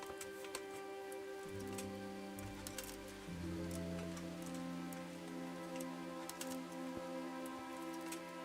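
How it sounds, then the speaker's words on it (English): Rain in the medieval video game Kingdom Come Deliverance falls as a steady patter with scattered sharp drips and ticks, layered over sustained low ambient tones. "It's raining, which makes it really hard to see anything."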